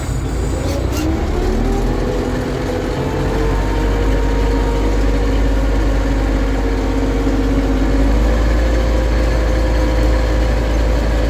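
A YuMZ 4x4 tractor engine drones steadily and loudly throughout while ploughing at a little over half throttle, with a low rumble and a slowly shifting hum as the throttle holds.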